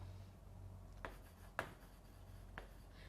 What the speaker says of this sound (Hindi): तो यहां पर मैं लिखती हूं